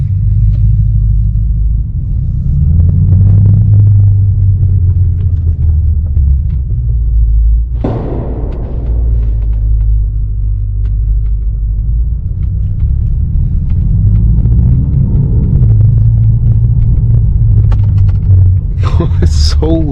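Straight-piped BMW exhaust idling inside a garage, a loud, deep, throbbing rumble that swells with revs, a sharp blip near the middle, heard up close and continuous.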